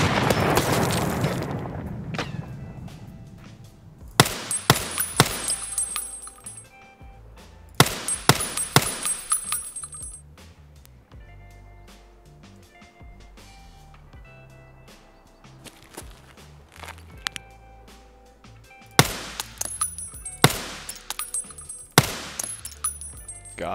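Bursts of SA-58 rifle fire in the shooter game Escape From Tarkov, sharp loud shots in several separated volleys, with quieter footsteps and movement between them.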